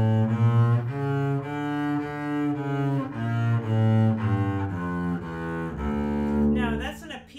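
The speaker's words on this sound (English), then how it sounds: "Altogether, it sounds like this, harmonic minor." A bass sounds a D harmonic minor scale, one sustained note after another in an even stepwise run with a wide leap near the top, played alone and fairly close.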